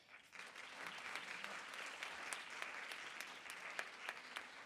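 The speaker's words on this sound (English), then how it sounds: "May we all please give a round of applause for our finalists." Applause for the finalists of an inter-municipality debate, a quiet, distant-sounding round of clapping from a modest audience, steady for several seconds with a few sharper individual claps.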